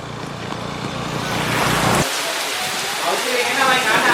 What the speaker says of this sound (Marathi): रिमझिम रिमझिम पाऊस पडतो